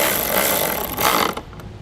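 Screws being driven to refit a trailer wiring housing on a 2017 Jeep Cherokee, a close buzzing whir of a power driver that cuts off abruptly, with no talking.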